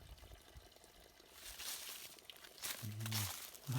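Fresh spring water runs from a pipe at Northcut Cove, a faint steady trickle that swells toward the end, with brief low voice sounds breaking in near the close.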